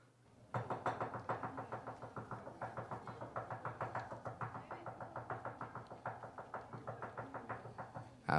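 Knuckles rap on a wooden dresser in a fast, even series of sharp knocks, roughly four per second, continuing loud and close for several seconds.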